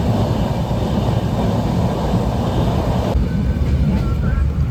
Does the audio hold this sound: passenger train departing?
yes